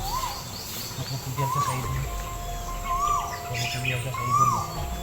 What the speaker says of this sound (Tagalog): Yung ibon na tumutunog ngayon.